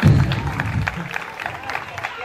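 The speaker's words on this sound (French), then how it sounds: "Applaudissez pour lui. On applaudit." An audience at a prize ceremony applauds a winner, with a brief swell of clapping and crowd noise that settles to a lighter patter while a voice carries over it.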